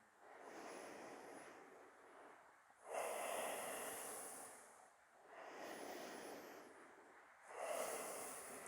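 Slow, steady breathing during an upper-body yoga flow, with long inhales and exhales trading off in an even rhythm, close to the mic and with no talking.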